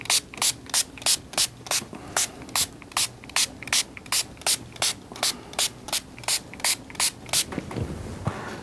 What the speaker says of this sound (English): As the rinse, nice fine mist.